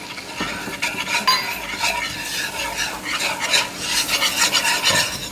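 A whisk beats flour into six tablespoons of melted butter for a lobster mac and cheese roux, fast loud scraping and rattling strokes against the pan, continuous and close.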